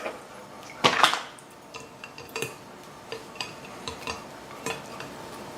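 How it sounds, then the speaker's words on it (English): A utensil scrapes and clinks against a metal strainer while a mango and cayenne hot sauce mixture is pressed through it, giving a series of irregular, fairly close taps and scrapes. "So I'm just going to press the mixture"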